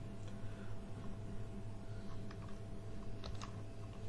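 Typing on a computer keyboard, a few quiet scattered key clicks over a steady background hum, faint and near.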